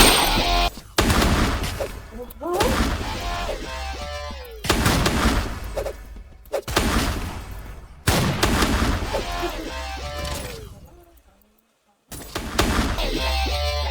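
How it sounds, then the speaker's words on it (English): Rapid bursts of gunfire in the video game MVSD, loud, repeated volleys separated by short gaps and one near-silent pause, with no speech. "You can just shoot through the bottom of it for some reason"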